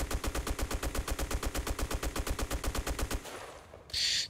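Type95 rifle firing in Black Squad, a steady rapid string of about two dozen evenly spaced loud shots, then a short tail and a brief hiss, no voices.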